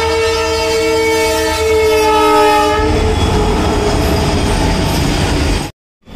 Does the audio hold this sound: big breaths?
no